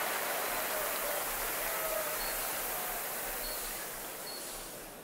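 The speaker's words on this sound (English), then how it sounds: "Well, the crowd sounds depressed, is what they sound like." A basketball arena crowd in the video game NBA 2K21 gives off a dense, steady wash of murmur and soft applause-like noise, fairly subdued, slowly fading toward the end with no clear voices.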